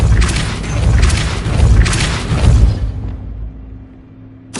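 A Depulso blasting spell cast in a Harry Potter video game lands as a loud run of booming, crashing thuds over a dense rumble, then fades into a quiet low hum with a short knock at the end.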